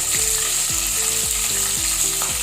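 Two green chillies slit lengthwise frying in hot oil for a malai egg curry, with a steady loud sizzle under a repeating rhythmic tonal pattern, no talking.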